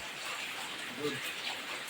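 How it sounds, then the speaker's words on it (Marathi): Steady rain hissing softly onto a village courtyard in the Konkan, with a broad, even wash of drops and no clear pauses. "पावसाला झाली आहे सुरुवात"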